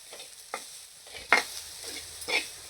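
Grated fresh coconut sautéed in a pan with ghee, soft scraping stirs at irregular intervals over a quiet background with faint sizzling, recorded close.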